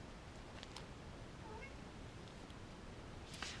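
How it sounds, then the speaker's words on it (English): A cat meows faintly in the background of a quiet room, a few short, distant cries over a low hiss. "You can hear my little cat Roxy in the background there meowing away at me"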